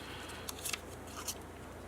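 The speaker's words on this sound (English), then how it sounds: "Cut that top part off." Scissors snip through a paper card to cut off its top part, giving a few faint, quick crisp snips close by against a quiet background hiss, with no talking.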